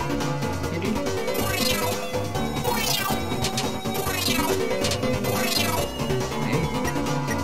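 A cat meows in the Deltarune Chapter 2 video game, its repeated cries sitting over dense, loud game music and effects that run continuously throughout.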